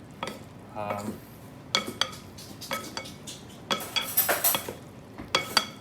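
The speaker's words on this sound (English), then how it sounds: "you just want to be patient and give it a good mixing, because the pesto, it will do a great job coating it" Cooked pasta being stirred with pesto in a metal pot, irregular scraping, clinks and knocks of a utensil against the pot in bursts, close by, with faint background noise.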